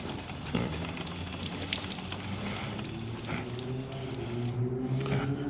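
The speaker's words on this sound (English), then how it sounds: "Just give her all a quick rinse." A water hose sprays steadily over a motorcycle during a rinse, a continuous close hiss and splatter that runs unbroken for a few seconds before easing slightly at the end.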